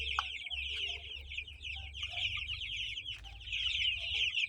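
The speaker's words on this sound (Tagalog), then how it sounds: "alagang manok na 45 days." A flock of 45-day-old broiler chickens in an open pen keeps up a dense, steady chorus of high chirping and clucking, close and continuous, over a low background rumble.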